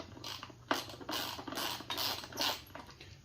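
Ratchet snugging down bolts on a Suzuki DR200, giving a few faint, quick clicking and scraping bursts close by, without talking.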